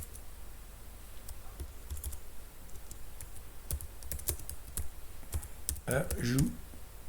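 Typing on a computer keyboard to enter G-code, with irregular close clicks and a quick flurry of keystrokes near the end, quiet and alone.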